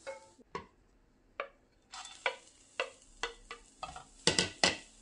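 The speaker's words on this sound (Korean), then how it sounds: "그래서 이렇게 파릇하게 볶으면 돼요" Cucumber is stir-fried in a pan for chiljeolpan: roughly a dozen sharp spatula clinks and scrapes against the metal, irregularly spaced, over a faint, quiet sizzle.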